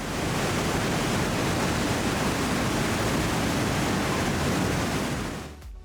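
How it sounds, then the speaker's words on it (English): Big waterfall at the end of Box Canyon in Ouray, Colorado, pouring several thousand gallons per minute: a dense, steady, roaring wash of falling water, loud and unbroken throughout, cutting off abruptly at the very end. "here we are arriving at the main event, which is the big waterfall at the end of the canyon"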